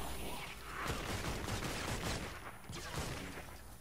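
The Dragon's Roar gun in Fortnite Save the World fires a rapid, dense fusillade of shots that runs for several seconds against a continuous roaring background.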